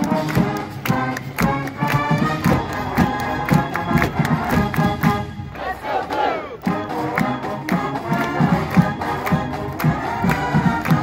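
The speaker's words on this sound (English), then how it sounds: "And now the big cheer from the big house comes to the Valley of the Sun." At a morning rehearsal by the Michigan Marching Band for the 2022 Fiesta Bowl in the Valley of the Sun, a big crowd sings a loud, rhythmic "Let's Go Blue" cheer. Claps and brass accents punch through, and there is a short lull before the chant builds again.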